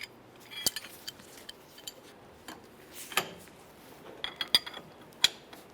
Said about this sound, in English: hold on to the inner tie rod end to prevent it from moving, and tighten up the jam nut